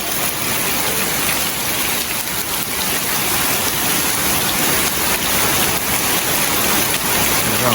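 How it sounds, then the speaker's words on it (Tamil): Heavy rain pours steadily and loudly throughout, a dense unbroken hiss of downpour with no voices, caught during a sudden heavy rainstorm in Jaffna. "செம மழை தான் வந்து பெஞ்சு கொண்டிருக்கேன் இங்கே"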